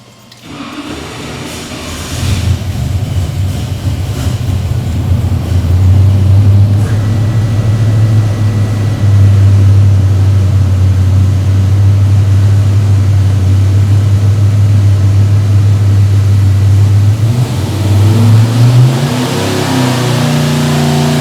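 A 509ci big block engine running on pump gas during a dyno pull, a loud, close, sustained roar that builds and holds at high revs for most of the stretch, then climbs and shifts near the end, with no talk.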